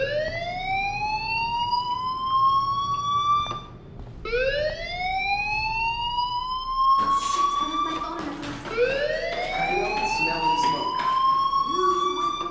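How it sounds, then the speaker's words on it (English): Fire alarm blaring in the video game Life is Strange, a loud rising electronic siren that sweeps upward in repeated long wails, with a brief break and background noise layered in toward the end. "do you hear that fire alarm? That means you should be outside."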